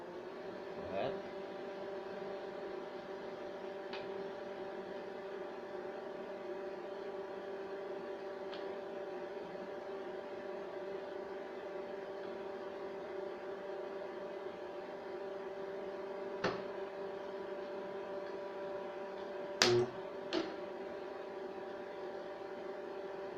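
A homemade SPCN10-B benchtop spot welder joins a steel sheet and a screw. A steady electrical hum runs throughout, broken by a few faint clicks and a short, sharp burst near the end.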